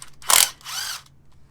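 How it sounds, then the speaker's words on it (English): A bolt on a Janus Halcyon 250 motorcycle near the sprocket cover is worked with a ratcheting tool, giving a loud burst of clicking followed by a softer whirring turn, close and with no talk. "I've got to take one of these bolts back out before I do that"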